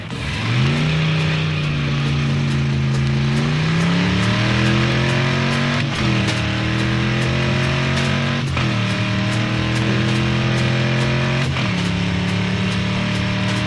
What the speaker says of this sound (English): You will run a series of standing quarter-mile runs.